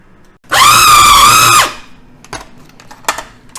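A small kitchen food processor whirs loudly at high speed for about a second, blending gyro meat into a paste, then stops abruptly. Scattered clatter and scraping follow in a quieter room.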